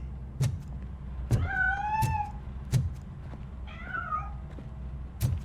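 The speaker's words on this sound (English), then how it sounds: "That cat must be hiding inside." A cat meows twice, fairly close, among soft thuds and light bumping sounds in a quiet room, in the video game RoboCop: Rogue City.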